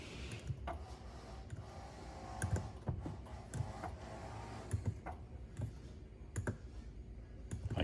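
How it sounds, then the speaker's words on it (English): Buttons get pressed inside a 2026 GMC Yukon Elevation, with a scattered series of soft, close clicks and taps at irregular intervals over a quiet background. "I keep pushing the wrong button"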